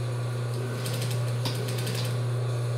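A sewing machine stitches a fabric seam for a child's jumpsuit, a low steady motor hum underlying soft, quick mechanical ticks and clicks from the needle mechanism, close and moderately quiet with no talking.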